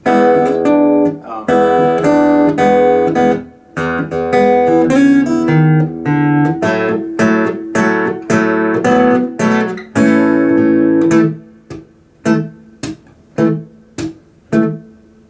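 Fingerstyle acoustic guitar arrangement of a song, picked in a lively pattern, then slowing into separate plucked notes and chords spaced apart, ending sparse and clear.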